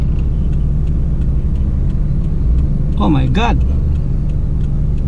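Heavy city traffic surrounds a car on the way to an SM mall, a loud, constant low engine rumble inside the vehicle, with a brief spoken exclamation partway through.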